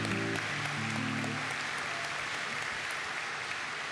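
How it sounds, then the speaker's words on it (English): Dense, steady audience applause for hula dancers at a live Hawaiian hula performance, a continuous wash of many hands clapping that starts with a fading musical tone and holds at an even level throughout. "Give them one more big round of applause"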